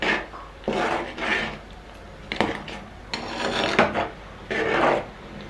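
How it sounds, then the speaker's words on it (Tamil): A spoon scrapes and stirs through viral fish curry in a pot after ground paste goes in, giving repeated close rasping strokes separated by short pauses, with no voices. "இப்போ இதை நல்லா கிளறி விட்டுக்கலாம்."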